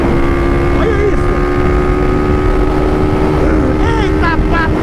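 A Honda Fan 160 motorcycle riding at speed, its steady engine drone and strong wind rush filling the clip continuously and loudly, with occasional higher whines rising over the constant roar.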